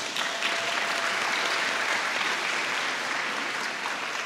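A crowd at a Jamaican mathematics teacher and olympiad awards ceremony applauds St. George's College with steady, dense clapping that continues unbroken throughout.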